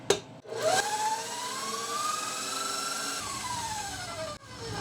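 An electric mixer runs on medium-high whipping butter for keto pound cake, a loud whirring motor whine that rises and falls slightly in pitch, with a clatter at the start and a short break near the end.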